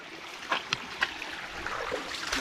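A cold mountain river's current rushes in a steady, close hiss, with a few brief splashes and knocks rising above the flow.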